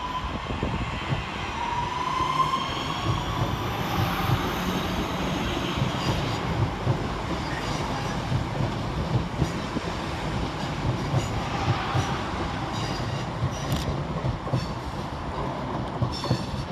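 A West Midlands Railway local train creeps slowly into Aston station in Birmingham, with a steady rolling rumble, rhythmic wheel clatter and faint high wheel squeal throughout.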